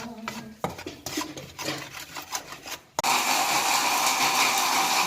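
Semolina being stirred and roasted in a pan for sooji halwa, a steady scraping and rubbing that becomes a louder, continuous sizzling hiss halfway through, close up with no talking.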